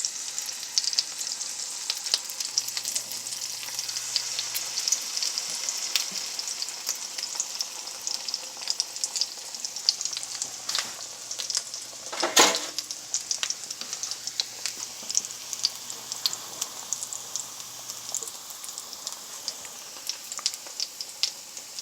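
Pancakes sizzle and fry steadily in a hot pan, a continuous bright crackle with small popping spikes throughout and no talking.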